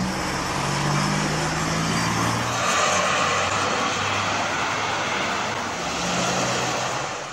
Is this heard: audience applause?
no